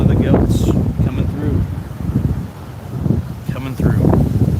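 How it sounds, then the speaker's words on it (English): Strong outdoor wind buffets hard against the microphone in loud, gusty roars that rise and fall, with fragments of voice mixed into the rush. "it is very windy out here"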